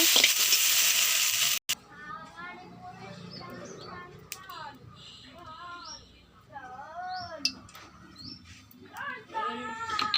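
Potatoes and vegetable stalks fry in hot oil, giving a faint, steady sizzle beneath someone talking throughout, with a few clatters of a utensil.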